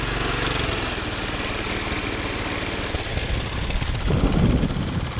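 The engine of a 1947 Whizzer motorbike, freshly given a top end rebuild, runs at a low idle with a steady, loud, rapid knocking putter that continues without a break and swells briefly near the end.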